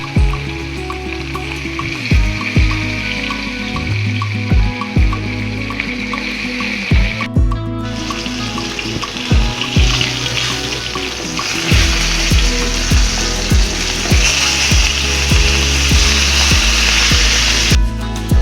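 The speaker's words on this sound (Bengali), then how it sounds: "নুন হলুদ মরিচ দিয়ে মেখে রাখা মাছগুলো এখন আমি ভেজে নেব।" Rui fish pieces rubbed with salt, turmeric and chilli frying in cooking oil in a pan, a steady close sizzle running throughout with occasional sharper crackles and no talking.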